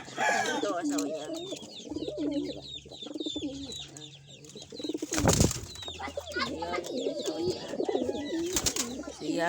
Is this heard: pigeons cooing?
yes